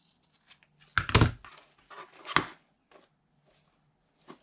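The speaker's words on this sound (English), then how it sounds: "I'm just going to trim off what I think is excess." Scissors trim excess material off an Easter treat cup: a few short, crisp snips close by, a cluster near the start and one more a moment later, then near quiet.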